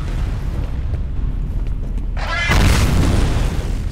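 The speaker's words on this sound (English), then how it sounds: "Grenade." A grenade goes off in the F.E.A.R. shooter, a loud burst about two-thirds through that brings a sudden wide roar over ongoing low combat rumble.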